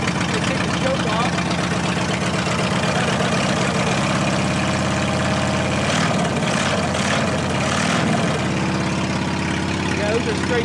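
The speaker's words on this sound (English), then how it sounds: "those are straight pipes on that NHC. So that's how an Onan should sound." An Onan NHC twin-cylinder engine on an OMC Mustang 330 / JD70 runs with straight pipes, a loud, steady, throbbing idle throughout, with voices talking over it.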